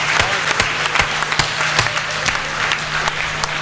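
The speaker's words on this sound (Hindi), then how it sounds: "जोरदार तालियां होनी चाहिए।" Audience at a Hindi comedy poetry gathering bursting into loud, dense applause, many hands clapping close and continuous with a few sharp individual claps standing out.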